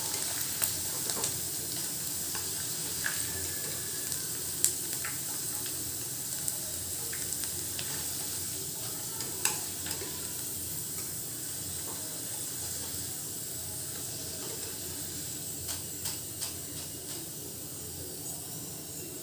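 Squid 65 pieces frying in hot oil, a steady close sizzle and hiss with small crackles and pops scattered throughout, no voices.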